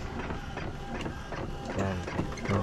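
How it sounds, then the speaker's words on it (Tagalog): An Epson ink tank printer, such as the L120, printing a page sent from a smartphone: close mechanical whirring and rhythmic feed clicks with a couple of short motor tones near the end. "nakapag-print na ako sa cellphone"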